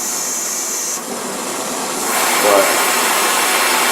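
An acetylene torch with a welding tip roars in a steady hiss, heating metal for bending, loud and close, with a few words spoken over it.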